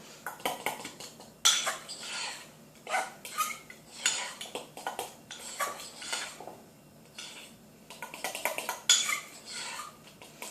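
Raisin bread batter is stirred in a mug with a spoon, repeated close scraping and clinking of metal against the mug in irregular bursts.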